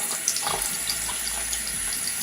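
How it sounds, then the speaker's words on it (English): A bathroom tap runs steadily while a facial spin brush is rinsed under it, a close, continuous splashing hiss with no voices. "then I wash my spin brush"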